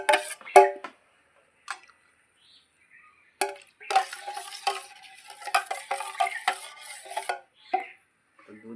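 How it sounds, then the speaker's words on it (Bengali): Milk being stirred into a yogurt starter in a pot, heard as scattered clinks and scraping taps, with a quiet gap before a busier run of stirring and knocks. "তো দুধ দিয়ে সাজালটাকে একটু মিশিয়ে নেবো"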